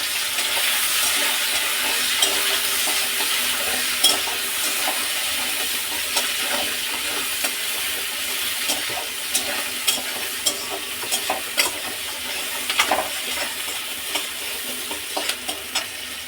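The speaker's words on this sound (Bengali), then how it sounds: "কুচানো পেঁয়াজগুলো তেলের মধ্যে দিয়ে দিলাম। পেঁয়াজগুলো একটু লাল করে ভেজে নেব।" Chopped onions fry in hot oil with whole garam masala in a kadai, a continuous loud sizzle and hiss with scattered scraping stir clicks growing more frequent toward the end.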